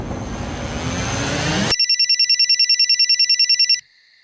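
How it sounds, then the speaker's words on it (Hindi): A telephone bell rings in a rapid, steady burst of about sixteen bright pulses, loud and close, after a stretch of roaring background noise. "हसमुख भाई का फोन है"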